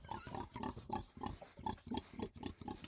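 Pigs raised on a small rural farm in Bosnia and Herzegovina grunt close by in a steady series of about a dozen short, rhythmic snorts, with no talk over them.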